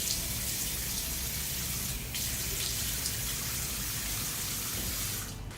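A bathroom faucet runs steadily into a sink while the face is splashed and wetted for washing, a continuous close rush of water with a couple of brief splashes.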